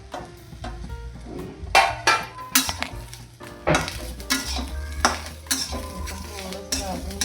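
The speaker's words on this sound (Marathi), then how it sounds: "थोडंसं भाजून घेऊ।" Ginger, garlic and tomato roasting in a pan for prawn masala, with a spatula scraping and clinking against the metal in irregular strokes over a soft, close sizzle.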